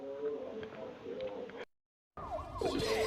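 An ambulance siren with a rising and falling wail, heard faintly at first under a background voice, cutting to a brief silence, then returning louder and closer with a sweeping wail.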